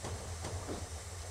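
Low rumbling rail-yard train noise from Train Simulator, a steady mechanical drone with faint hiss and no voices, moderately distant and even throughout.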